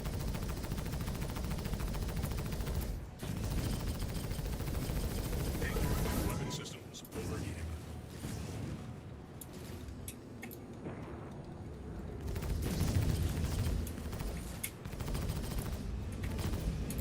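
Gunfire in a Guild Wars 2 battle against turrets: dense, rapid bursts of shots and explosions form a loud, continuous barrage with brief lulls, heard close and alone.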